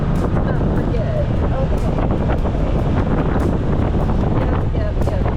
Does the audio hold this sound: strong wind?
yes